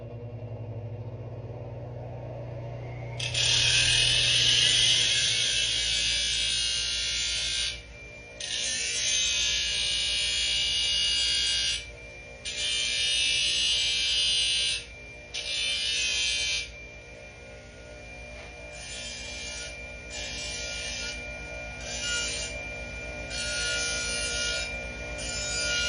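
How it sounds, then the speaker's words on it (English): A bandsaw cuts out a horseshoe treatment plate, then smooths its edges: a loud, high buzzing whine that starts after a quiet lead-in and then runs in repeated bursts broken by short pauses, with no talking. "I'm going to take it to the bandsaw and cut it out. Smooth up our edges a little bit."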